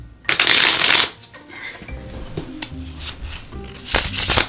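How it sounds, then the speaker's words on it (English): A deck of playing cards being shuffled at home, two loud riffling bursts at the start and end with softer card handling and faint shuffling between, no speech. "Ooh, shuffling those cards."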